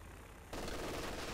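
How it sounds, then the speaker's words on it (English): An MG42 machine gun in a WWII strategy video game opens up partway through, a dense, continuous burst of rapid fire that stays loud to the end. "MG42 isn't insulted by this. They're more than happy to throw rounds downrange."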